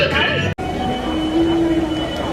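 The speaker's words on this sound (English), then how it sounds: "The train is actually going to be moving." A train from a video game rolls along with a steady rail rumble and a brief squeal of wheels, heard alone and continuous with no speech.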